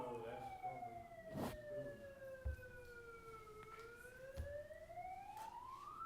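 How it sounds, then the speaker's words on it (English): A siren wails in the distance outside a city council meeting, its pitch sweeping slowly down and back up, with a few faint thuds and background murmur. "I'm not sure if that's a siren that's outside"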